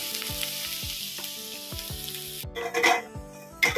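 Food sizzles and fries in a pan, with a steady crackle broken by a few sharp clinks and scrapes near the end. The sound is close and moderately loud, with no voices.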